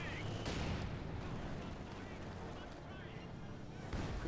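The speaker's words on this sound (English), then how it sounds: "Quick barrage here against the German positions." Artillery barrage in Company of Heroes 2, a dense low rumble of repeated blasts and booms rolling on steadily, with a voice faintly underneath.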